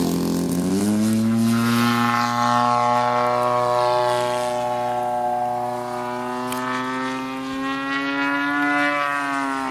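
A steady, loud buzzing drone of an RC model airplane's small propeller engine holds close and constant, with its pitch rising slightly.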